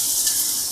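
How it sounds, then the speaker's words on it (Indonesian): Mushrooms sizzle in hot oil in a frying pan, a steady close hiss that holds without a break and has no voices over it. "Ini aku goreng dulu guys."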